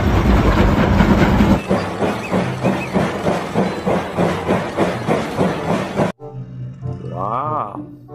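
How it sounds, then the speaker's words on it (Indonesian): A Thomas the Tank Engine toy train rattles along in a steady, rhythmic clickety-clack close by, then the motion cuts off and a short rising-and-falling tonal whistle or jingle follows. "Wah, kita menemukan kereta api Thomas."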